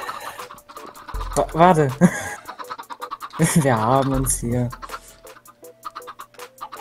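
Chickens clucking in the Minecraft modpack Sky Factory 3, short repeated clucks and squawks heard under and between someone speaking German.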